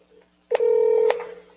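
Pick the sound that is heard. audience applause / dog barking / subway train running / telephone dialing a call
telephone dialing a call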